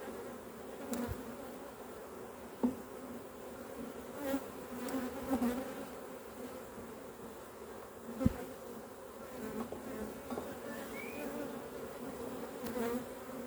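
Honey bees swarm around an opened hive with honey and wax comb inside, making a continuous low buzzing drone punctuated by occasional nearby clicks and knocks, with no voices.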